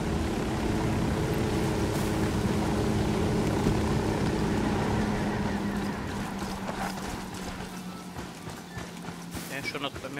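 A helicopter in Ghost Recon Wildlands flies low with a steady, heavy rotor drone that eases slightly over time, while someone talks over it.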